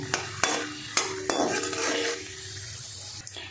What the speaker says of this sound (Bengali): বাদামগুলো ভাজা হয়ে গেছে, আমি বাদামগুলো তেল থেকে তুলে নেব